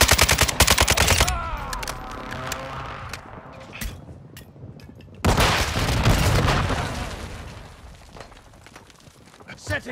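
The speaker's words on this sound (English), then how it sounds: "Overhead. Enemy precision airstrike." Enemy precision airstrike in Call of Duty: Modern Warfare II on the Embassy map: loud bursts of explosions and gunfire open the clip, ease off under radio-style chatter, then a second heavy blast rolls out and slowly fades.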